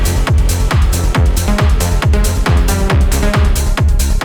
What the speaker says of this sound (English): That means that on the beat horn sounds like this.